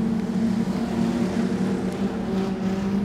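A street stock race car in an Edge Series feature race at Kingaroy Speedway, its engine a loud, steady, close drone that holds for the whole stretch with no voices over it.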